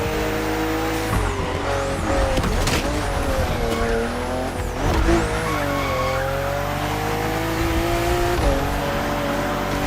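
A BMW CSL race car in The Crew Motorfest drives hard, its engine droning loudly and steadily while tires squeal and skid through several turns, alone with no talk.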